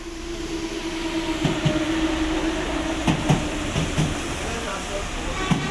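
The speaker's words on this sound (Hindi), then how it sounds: "ये रेलवे स्टेशन है, ट्रेनें आ जा रही हैं।" Trains move through a busy railway station in Paris, a steady rumble with hiss and intermittent clanks and knocks rising over the background.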